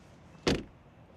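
A frameless door on a BMW iX facelift electric SUV swings shut with one soft, damped thud that is brief and fairly quiet against faint background hiss.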